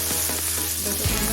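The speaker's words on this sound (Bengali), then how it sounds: "গ্যাসের ফ্লেমটা আমি মিডিয়ামে রেখে ভেজে নেব" Vegetables fry in a pan over a medium gas flame, a loud, dense sizzle heard close for just over a second.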